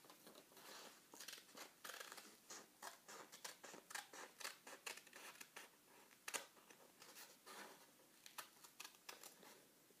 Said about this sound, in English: Make sure to turn the paper with the scissors